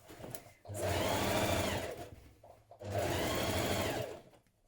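A sewing machine runs two long, steady bursts of fast stitching along a dungarees bib and trouser seam, close and loud, with a short pause between runs.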